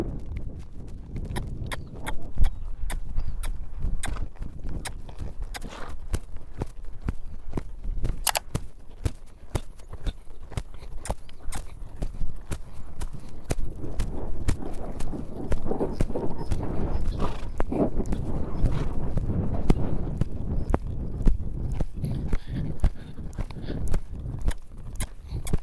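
A horse loping in a riding session, its hooves beating a steady rhythmic clip-clop on the ground throughout, close and fairly loud with some arena noise.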